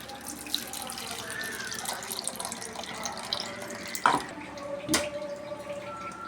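Finely ground coconut strained through a filter to press out coconut milk, giving a steady close wash of running, dripping liquid with a couple of sharper splashes; no talking.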